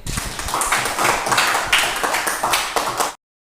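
Applause from a classroom audience for a classmate, a dense run of many hands clapping for about three seconds before stopping abruptly.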